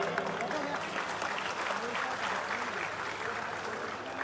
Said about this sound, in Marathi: सगळ्यांनी एक जोरदार टाळ्यांचा नाद करायचा आहे